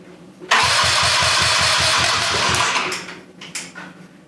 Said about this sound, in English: It's cranking, that's a good sign.